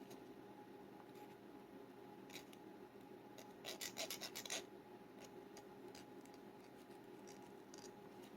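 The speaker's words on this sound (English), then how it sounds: "just give it a couple passes on the file, just to clean the burrs off" A few quick rasping strokes of a metal file clean burrs off a small watch part. The short bursts are faint and close, set against a low steady background hum.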